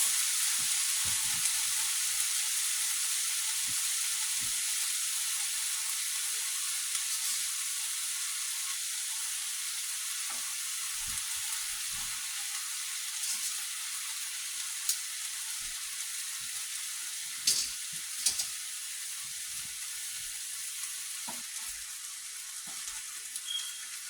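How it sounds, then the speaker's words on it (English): Chow mein noodles stir-fried with chicken and shrimp in island style make a faint, even hiss of sizzling that runs throughout, with occasional small pops and stirring clicks. "stir that. We're going to add our noodles."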